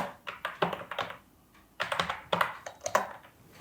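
Keys clatter on a computer keyboard in two quick bursts of typing separated by a brief pause, close and crisp with no talking.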